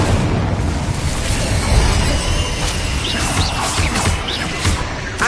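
Fire spell blast in a Hogwarts Legacy battle, a dense roaring whoosh of flame and rumbling booms sustained throughout, loud and close with bright crackling bursts layered on top.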